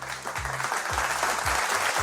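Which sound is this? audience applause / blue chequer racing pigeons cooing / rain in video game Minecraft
audience applause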